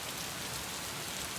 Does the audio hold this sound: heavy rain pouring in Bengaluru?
yes